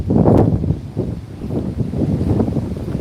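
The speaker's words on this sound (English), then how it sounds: "Very windy though." Gusty wind on a street in New Addington buffets the microphone in low rumbling bursts, loud and close, with nothing else clearly audible.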